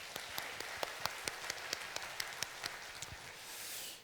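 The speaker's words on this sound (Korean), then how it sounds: "자, 우리 박수해 줄까요?" A church congregation claps together, sharp distinct hand claps ringing out over a soft background wash, settling into a fuller murmur of applause toward the end.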